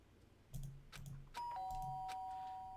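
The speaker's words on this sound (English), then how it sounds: "Did I hear the doorbell?" A doorbell in the video game Danganronpa rings with a clear two-tone chime that lingers and fades, following a few soft, muffled thumps.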